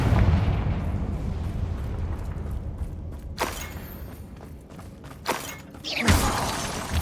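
A Confringo blasting spell in Hogwarts Legacy, a rumbling roar followed by several sharp crackling blasts and bursts spaced a second or so apart, the last one loudest, with no talk.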